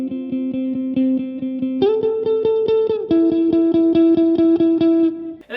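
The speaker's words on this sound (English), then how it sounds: "Turn up high, and it's a really sort of modulated reverb." Electric guitar chords strummed in a steady rhythm, each change ringing out with a shimmering, wavering reverb tail; no voices.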